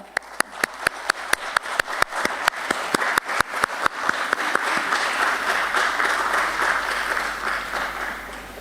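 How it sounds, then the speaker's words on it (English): Audience applause for an independent director at the BSE listing ceremony of Adon Agro Commodities Limited: a few seconds of sharp, evenly spaced single claps, then a dense, sustained round of clapping from the crowd. "Ladies and gentlemen, a louder round of applause while we welcome him"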